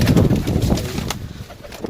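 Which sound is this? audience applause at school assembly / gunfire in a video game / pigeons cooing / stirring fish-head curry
pigeons cooing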